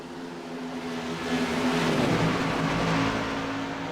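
Race cars battling closely on a track, a steady loud engine roar that swells toward the middle as the tight pack passes by, with no voices heard.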